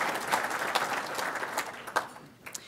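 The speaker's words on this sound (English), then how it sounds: "give yourselves a round of applause" Audience applause fills a room at the Saint Clair County State of the County 2019 event, a steady crackling clatter of many hands lasting a few seconds with no voices over it.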